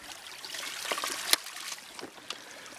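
Water pours from the outlet of a hydraulic ram pump, a close, steady trickling stream with small splashes and a few sharper spatters over nearly three seconds.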